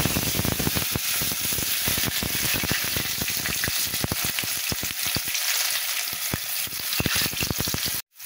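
Onion and garlic hit hot oil with black cumin seeds, giving a loud, dense, continuous sizzle with scattered crackles and pops, steady throughout and cut off abruptly at the end, no voices.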